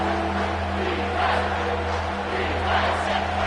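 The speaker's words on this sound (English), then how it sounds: "This crowd rising up, sensing that its defense needs some help" A stadium crowd in the College Football 25 video game during a Nebraska vs. UCLA matchup, a steady, loud roar of massed cheering that swells slightly and holds throughout.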